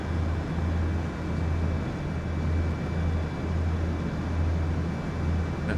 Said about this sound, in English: Looks like the engine's louder.